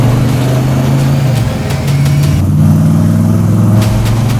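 A 1968 Shelby Mustang GT500 tribute car with a 427 engine roars loudly and steadily nearby, its deep rumbling exhaust rising and falling as it is revved, with no talking over it.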